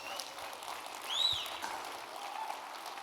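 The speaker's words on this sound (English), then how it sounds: "Give yourselves a big round of applause." Faint, distant audience applause at a live comedy show with a Donald Trump impersonator, a steady wash of clapping with a brief whistle partway through.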